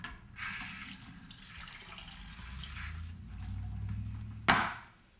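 Water runs from a tap for several seconds, a steady hiss that shifts in tone as it fills, ending with a short clunk as it shuts off, with no talk.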